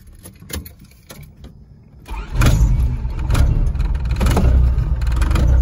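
A turbocharged Honda Integra starts out quiet, with a few faint clicks and knocks. The engine then comes in loud and close about two seconds in, holding a rough, steady running drone.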